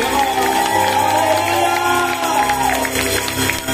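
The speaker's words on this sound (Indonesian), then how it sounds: "Boleh beri tepuk tangan bagi Allah kita" A church congregation claps and cheers during a worship service, the dense applause and crowd noise running steadily beneath a sustained musical tone, loud and enveloping throughout.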